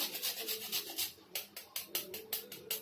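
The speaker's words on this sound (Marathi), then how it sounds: "थोडंसं जायफळ आहे ना हे किसून घेऊया" Nutmeg rubbed against a hand grater in a home kitchen while cooking, giving about a dozen quick rasping scrapes in a steady back-and-forth rhythm, close and fairly soft with no talk.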